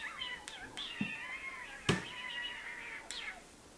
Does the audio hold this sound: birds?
no